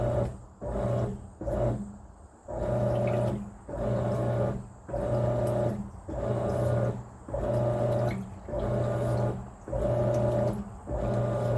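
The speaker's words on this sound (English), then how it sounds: "The agitator is moving, however the clothes are not." A Whirlpool top-load washer with a removable agitator runs in wash mode, churning in a regular rhythm of roughly one-second strokes separated by short pauses, loud and close throughout.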